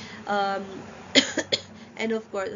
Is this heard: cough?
yes